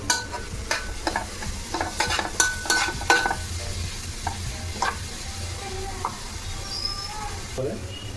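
Carrots and tomatoes frying in a pan, stirred by a spatula that scrapes and clacks in quick bursts over a steady close sizzle.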